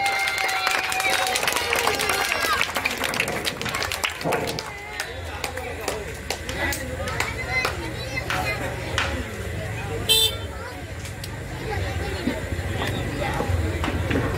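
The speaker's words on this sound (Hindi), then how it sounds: "लोग तालियों से इनका भरपूर जोरदार स्वागत कीजिए" Applause and crowd hubbub from the audience at a political rally in Bihar, a dense, sustained clapping and murmur that keeps going, with talking mixed in over a loudspeaker.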